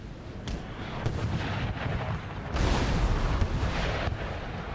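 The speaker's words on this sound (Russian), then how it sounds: "Давайте попробуем вот эти пушки." Cannon artillery booming in Napoleon: Total War, a dense rumble of shots and blasts layered together, with a louder surge of firing midway through.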